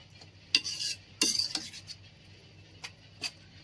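A spoon stirs a paneer, cashew and green pea vegetable curry with salt in a pan, giving a few sharp metallic scrapes and clinks at irregular intervals over a quiet background.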